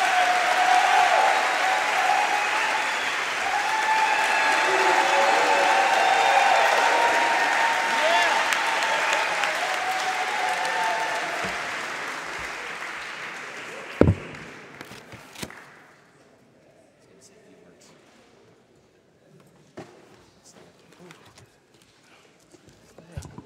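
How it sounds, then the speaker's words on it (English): Warm, sustained audience applause for a choir at a Sunday gospel jazz church service fills the room loudly, then thins out and fades to scattered claps and near-silence. "Let's give them one more big round of applause."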